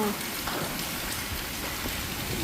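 Heavy rain pouring down over an area of apartments and houses, a constant broad hiss of rainfall with scattered drops hitting nearby surfaces.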